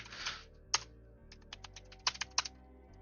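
Soft, quiet clicking of a computer keyboard being typed on, irregular keystrokes scattered over a few seconds against a low steady hum, with no talking.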